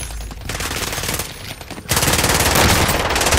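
Loud, rapid automatic gunfire fills a Call of Duty Warzone firefight, sustained bursts close by that grow denser and louder partway through.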